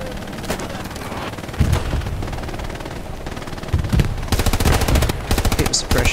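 Sustained machine gun fire in a video game, loud and close, with rapid rhythmic bursts that grow denser toward the end.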